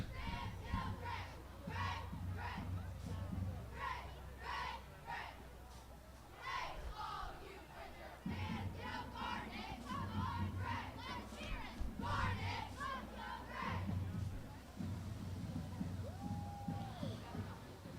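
A high school cheer squad chants in loud, rhythmic unison shouts at an outdoor Christmas street event on Merchant Street in Ambridge, with crowd noise underneath throughout.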